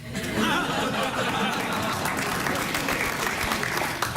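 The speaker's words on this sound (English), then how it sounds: "Why are you applauding me?" A studio audience applauds warmly at a talk show book dedication, dense steady clapping mixed with a few chuckles and crowd murmur, sustained throughout without speech.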